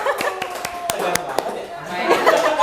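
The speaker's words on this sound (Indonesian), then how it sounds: "berarti kalau misalkan tepuk tangan dulu boleh?" An audience at a hospital health talk show on glaucoma gives a short round of claps, sharp distinct handclaps over soft chatter and light laughter, with people talking.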